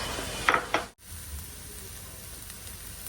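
Carrots frying in hot oil and being stirred, a steady close sizzle with a few sharp scraping clatters of the spoon near the start before the sizzle settles into a quieter hiss.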